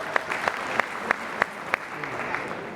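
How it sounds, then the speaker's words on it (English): Hands clap together in a modest round of audience applause during a presentation. A handful of crisp, close claps ring out over a softer background patter. "Give them a clap."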